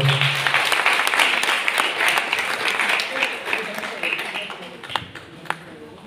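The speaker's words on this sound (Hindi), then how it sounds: "तालियां एक बार बोल रहा हूँ।" An audience at an International Women's Day event claps in sustained applause, loud at first and gradually thinning out, with scattered individual claps near the end.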